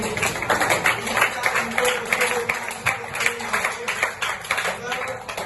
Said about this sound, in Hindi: तो मैडम सोनाली मैडम का ये जोरदार ताली हो जाएगी इनके लिए